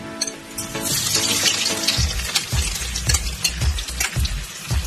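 Garlic for adobo sa gata sizzles and crackles loudly in hot oil in a pan, with stirring scrapes and a rhythmic series of thuds in the second half, close up and without talk.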